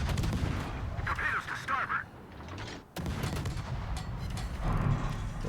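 Naval guns fire HE shells in the World of Warships video game, giving sharp booming volleys under a continuous rumble of battle, with a voice talking over it.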